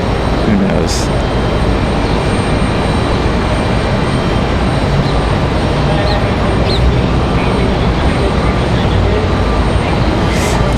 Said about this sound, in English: So this is Endeavor 5160 from LaGuardia. 1 hour, 8 minutes of flight time for the CRJ here.